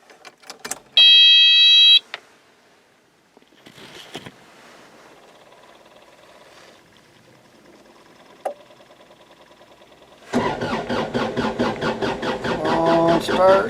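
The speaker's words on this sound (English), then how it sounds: "Let's go see if the Kubota is going to start today." A Kubota tractor engine cranks at the end, loud and close, after a sharp electronic beep, a few clicks and quiet movement.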